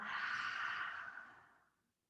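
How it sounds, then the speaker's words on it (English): A slow, soft breath let out through an open mouth, one long airy exhale that fades away gradually over about two seconds. "Open your mouth and exhale."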